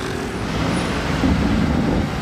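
A BMW M2 roars past close by, its engine noise loud and broad, swelling slightly before easing off.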